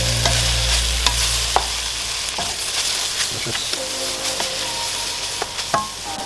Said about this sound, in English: we're going to add the Cavolo Nero straight in with the veggies